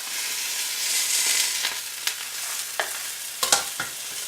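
Steak sizzles in a hot pan as it is stirred and moved around, making a steady loud hiss up close with a few sharp pops and scrapes near the end.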